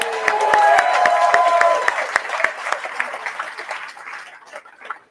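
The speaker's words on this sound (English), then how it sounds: "Can we have another round of applause for that?" An audience applauds after a speech at a political party launch, a loud dense clapping that holds for about two seconds and then thins out and fades, with a few isolated claps at the end.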